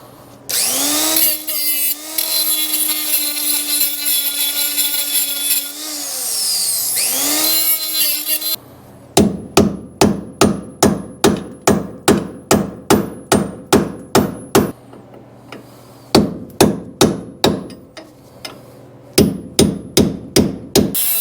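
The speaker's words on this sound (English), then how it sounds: "Let me see if I can chisel this off." Hammer striking a chisel on a vehicle's front suspension ball joint during installation, a loud run of rapid metallic blows in quick bursts with short pauses, preceded by a high whining power tool.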